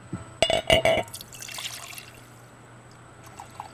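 A drink poured into a glass: a few quick, bright splashy bursts early on, followed by a softer trickle tailing off, close and fairly loud.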